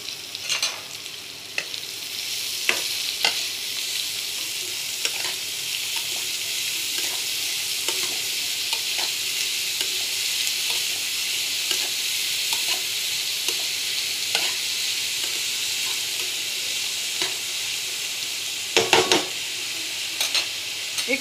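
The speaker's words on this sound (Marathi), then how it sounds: "मिठाने कांदा सॉफ्ट होतो आणि लवकर परतलाही जातो." Onions with salt sautéing in a pan for a valachya shengachi bhaji, giving a steady close sizzle with intermittent stirring scrapes throughout and a louder clatter near the end.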